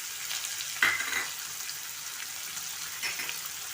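Onion and tomato fry on a hot tawa for tawa pulao, giving a steady, fairly faint hiss and sizzle. A louder burst of crackling rises near the start and a softer swell comes later, with no voices over it.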